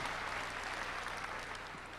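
Sustained audience applause fills a karaoke concert hall, a dense steady clatter of many hands clapping throughout, loud and continuous with no break.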